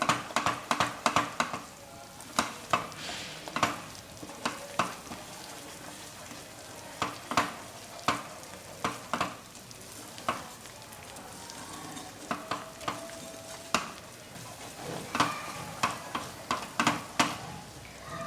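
A spatula scrapes and stirs a thick Mysore Pak mixture of gram flour, sugar and ghee in a pan over a medium flame, in repeated rhythmic strokes over a soft sizzle, close and with no talking.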